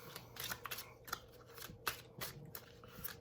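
Tarot cards being shuffled and drawn, soft papery riffles and slaps in irregular bursts, close and quiet over a faint background hum.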